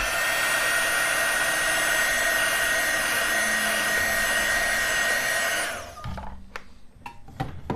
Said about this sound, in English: If it dries, I'll give it a little blast from the dryer.